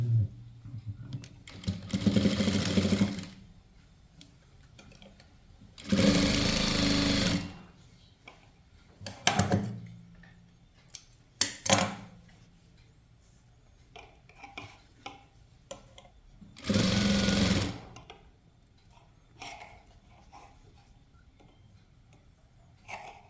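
A sewing machine runs in several bursts of a few seconds each, stitching a folded blouse edge, with quiet pauses and small handling sounds between runs.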